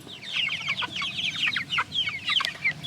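Backyard homestead chickens pecking and scratching in grass cluck in a busy, overlapping chorus of short calls, close by and fairly loud, with no talking.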